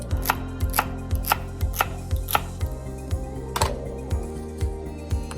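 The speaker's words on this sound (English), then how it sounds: "these ends are kind of looking run down, so I'm just gonna chop that up" A kitchen knife chops worn carrot ends on a cutting board in quick, regular close-up thuds, about fifteen sharp board knocks in a steady rhythm.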